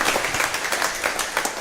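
A congregation claps at a novena mass for the feast of San Jose, a fairly soft, continuous round of hand-clapping with some individual claps standing out.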